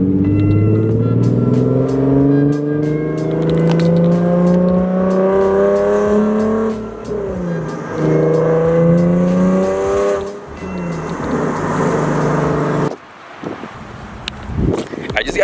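A Nissan 370Z with a Tomei aftermarket exhaust revs loudly, its engine pitch climbing and falling in repeated pulls over wind buffeting, then dropping off near the end.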